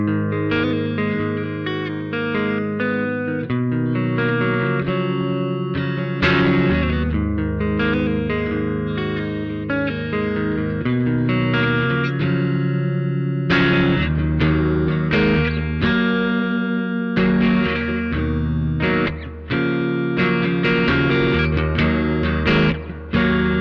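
Electric guitar played through a Tech 21 Sansamp GT2 pedal set for a tweed Bassman-style tone, with spring reverb from a Behringer digital unit: continuous driven, slightly distorted chords and riffs, full and steady throughout with no talking.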